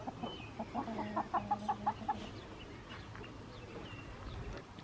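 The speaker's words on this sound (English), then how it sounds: "Chickens and ducks roaming around, some people may not like" Chickens cluck in a short run of pulsed calls at a farm campsite where chickens and ducks roam, fairly close and standing out over a steady outdoor background murmur.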